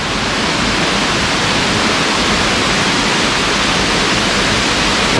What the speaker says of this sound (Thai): เป็นแบบทางน้ำไหลนะ